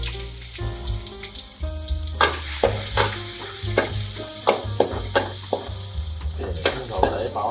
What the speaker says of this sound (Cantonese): 我哋就嚟炸呢個葱頭仔啦